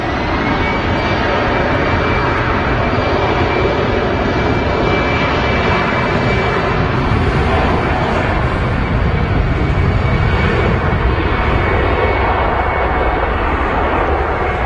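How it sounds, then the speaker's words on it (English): A Finnair Airbus A319 jet departing Manchester Airport, a loud, broad, continuous engine roar close by as it powers up and rolls away. "There goes the Finnair A319 on the departure"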